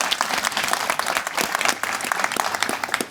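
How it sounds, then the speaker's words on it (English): Dense applause from a conference audience at a political practice event, a steady patter of many hands clapping at moderate volume with no talk over it. "Round of applause."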